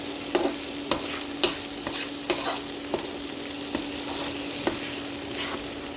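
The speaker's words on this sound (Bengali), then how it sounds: "খুব ভালো করে ভেজে নিলে চালটা এই ভাজতে ভাজতে অনেকটা ফুলে যাবে" Rice grains with whole spices and salt fry in a pan for white pulao, a steady hiss of hot oil broken by regular scraping stirs of a spoon, close and clear, with no voices.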